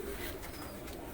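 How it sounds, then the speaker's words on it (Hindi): Soft cooing from rare UAE pigeons, a brief, low murmuring call heard faintly against quiet background noise. "आज यूएई के नायाब कबूतर दिखा रहे हैं"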